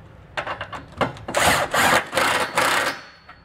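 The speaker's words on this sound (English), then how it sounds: "We'll come back with our impact and run our bolts down." An impact wrench runs down the bolts of a Curt Class III trailer hitch on a 2021 Honda Passport. Short ratcheting bursts are followed by a louder sustained buzzing rattle, close up, with no talking.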